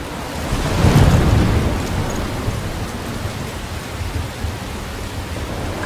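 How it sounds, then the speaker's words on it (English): A thunderstorm in the video game Life is Strange, with a low rumble of thunder swelling early and then dense steady rain and wind filling the rest, loud and enveloping. "I'm trapped in a storm?"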